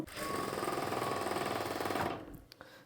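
A sewing machine runs steadily for about two seconds, stitching a pocket onto a churidar bottom, with a fast, even stitching rhythm that then stops, leaving a couple of faint clicks. No one speaks.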